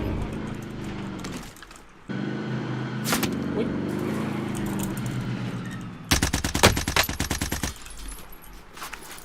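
Gunfire from a G3A3 rifle in the Call of Duty Warzone video game, heavy bursts of rapid automatic shots in the latter part over a dense background of game ambience.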